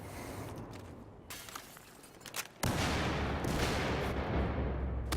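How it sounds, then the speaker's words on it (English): Explosions and gunfire in a Battlefield 4 match: dull distant booms and scattered shots give way to a sudden massive blast whose roaring rumble fills the rest of the stretch at full loudness. "Destruction, destruction. Michael Bay explosions."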